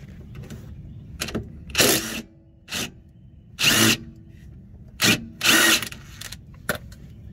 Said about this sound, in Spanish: procedemos a quitarlo con un cubo 12